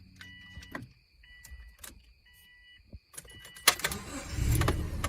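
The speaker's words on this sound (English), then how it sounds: "Alright, let's turn this car back on." Thin electronic chime tones and small clicks lead into a car engine cranking and catching with a loud burst, then settling into a low, rumbling idle.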